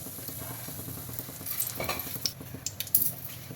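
Whole spices, including a bay leaf, black and green cardamom, cloves and mace, sizzle in hot oil for biryani while a metal spoon stirs and scrapes the pan in quick clinks, close and fairly steady with no talking.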